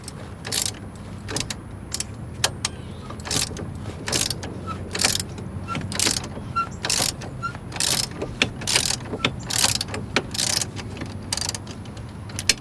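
A ratchet backs out the last bolt while a CV axle is being changed, making loud, close, rhythmic clicking strokes in steady bursts over a low background hum, with no talking.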